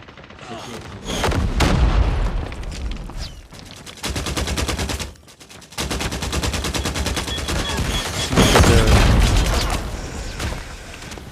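Gunfire and explosions in Call of Duty Mobile during a Hardpoint match: loud bursts of automatic fire and booming blasts in clustered volleys, with brief pauses between them.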